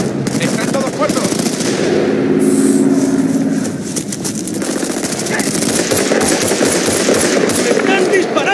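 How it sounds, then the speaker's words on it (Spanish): Heavy automatic gunfire rattles through a battle in Battlefield Bad Company 2, rapid machine-gun bursts and shots layered over one another almost without pause, loud and close, with shouting voices mixed into the din. "¡Se están disparando!"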